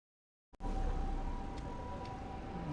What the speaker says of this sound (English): See, there's another ambulance.